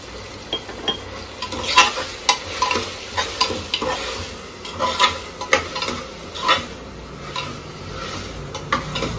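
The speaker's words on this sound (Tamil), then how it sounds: "உப்பு கொஞ்சம் போட்டுப்போம் வணங்குறதுக்காக." Ginger garlic paste with salt sautéing in a pan: a low, steady sizzle broken by repeated scraping strokes and light clinks of a metal spoon against the pan, close up and without speech.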